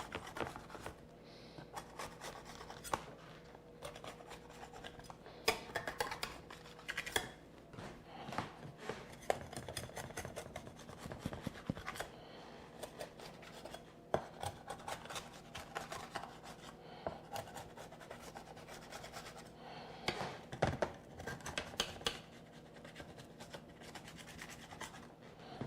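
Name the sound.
loosening warm cookies on the baking pan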